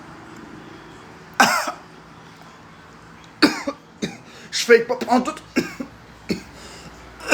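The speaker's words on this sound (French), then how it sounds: "Fait que c'est pour ça que je tousse." A person coughs repeatedly, a sharp harsh cough followed later by a cluster of rough coughs and throat-clearing bursts, close to the microphone, with brief speech mixed in.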